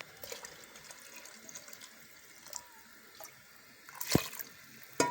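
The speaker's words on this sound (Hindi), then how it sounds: "हम इसके अंदर थोड़ा सा पानी भी डाल दिया है" Water and chicken stock are poured into a pressure cooker while cooking daal mash with desi chicken: a soft, continuous trickle and splash, with a brief, louder pour near the end.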